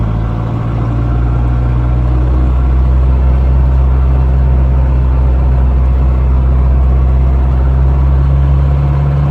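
A 4x4 vehicle's engine drones at steady high revs under full boost in fourth gear, a loud, continuous low hum with strong tonal bands and no breaks, close and alone.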